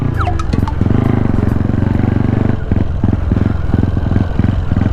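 A small motorcycle that has sat unused for over ten days with an uncharged battery starts after the wheel is turned, then idles loud and close with a steady rhythmic putter and several uneven revs.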